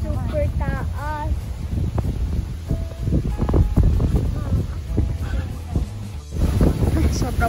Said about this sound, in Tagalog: Sobra po talaga ang hangin dito.